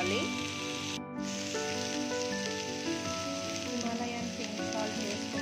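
Cauliflower frying in a pan over a flame, a dense steady sizzle, with overlapping tonal lines of background music running throughout.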